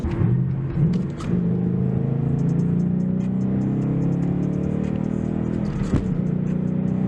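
A Ford Mustang accelerates hard with a steady, loud engine drone and rumble that holds for several seconds, heard from inside, with a couple of brief clicks and no talk.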